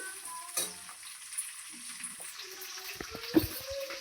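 Chopped green chillies frying in a pan for lemon rice, a soft steady sizzle with a few stirring knocks and clinks, close and low in level.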